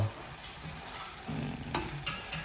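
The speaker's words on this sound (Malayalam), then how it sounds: "നമ്മൾ ചെമ്മീൻ ചട്ടിയിൽ നന്നായിട്ട് വെന്ത് കൊണ്ടിരിക്കുകയാണ്" Prawns cooking in oil in a pan give a soft, steady sizzle with a light stirring scrape partway through, close but fairly quiet, with no voices.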